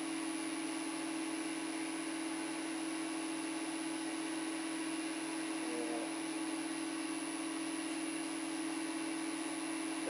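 A woodturning lathe runs at a constant speed, its motor giving a steady, even drone and whine for the whole stretch, with no talking over it.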